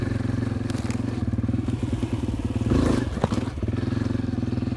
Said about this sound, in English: riding with a motorcycle instead of a bike helps me a lot to give speed when they need it